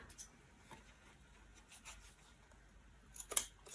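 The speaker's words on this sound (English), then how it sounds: "I need to snip here a little bit." Scissors make a few quiet, sparse snips through paper strips, soft and close, with a slightly louder cut near the end.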